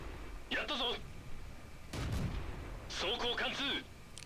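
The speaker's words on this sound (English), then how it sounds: "So put a couple of shots in" Tank gun shots in the video game Ace Tanker boom in two or three heavy bursts, each with a low rumbling tail, mixed with short game effects and a faint voice.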